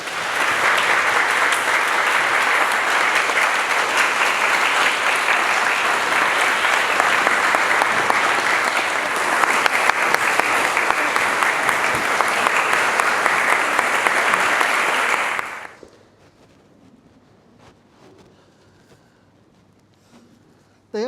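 Sustained applause from a ceremony audience at a Trappist monastery's final vows rite, loud and steady for about fifteen seconds before cutting off abruptly into near silence.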